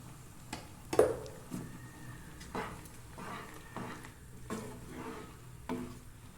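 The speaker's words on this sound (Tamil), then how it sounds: "கொஞ்சம் தண்ணி ஊற்றி கொதிக்க வைப்போம்" Green peas kurma gravy heating in a home kitchen pot after water is added, with soft bubbling and simmering under a few scattered stirring clinks and scrapes at irregular intervals.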